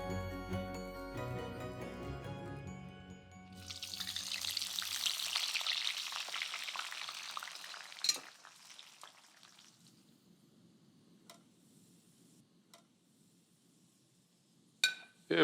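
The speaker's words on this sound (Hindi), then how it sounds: "तेल गरम कर लेना है सरसों का, उसको स्मोक करने देना।" Mustard oil heating in a pan until smoking, opening on a fading musical sting before a loud sizzling burst rises, then quieter crackle with a few sharp clinks of metal on the pan.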